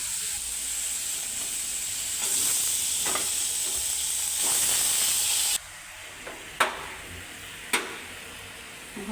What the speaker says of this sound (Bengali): এই জায়গায় কহি ভাজি করব।